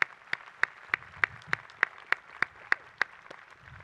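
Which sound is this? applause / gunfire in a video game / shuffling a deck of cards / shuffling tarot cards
applause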